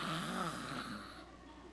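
A man imitates loud, open-mouthed snoring with his voice, one long raspy drawn-out snore that fades toward the end, heard close and alone.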